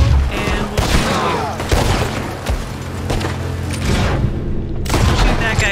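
Gunfire in the video game Red Dead Redemption 2: dense, loud volleys of shots and booms roll almost continuously, with brief gaps, under a steady bed of game noise.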